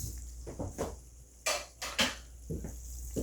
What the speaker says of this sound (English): I do want to kind of scrape it around, get that goodness off